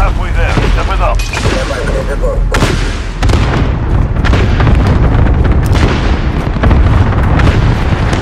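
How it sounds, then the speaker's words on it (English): Repeated heavy booms from an allied cluster strike in the Call of Duty: Modern Warfare video game, a loud dense run of overlapping explosions and rumbling impacts for several seconds, with game voices briefly over the start. "Allied cluster strike."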